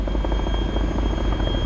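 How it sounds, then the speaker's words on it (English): A helicopter in the video game Arma 2: Operation Arrowhead gives a steady, loud rotor and engine drone with a rumbling low end and rapid blade chop, continuous and unbroken, with no voices. "There's a helicopter landed over there."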